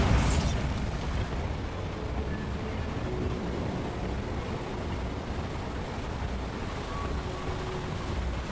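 A Bombarda spell explosion in the video game Hogwarts Legacy hits with a loud blast at the start, then a dense, roaring rumble that keeps going steadily.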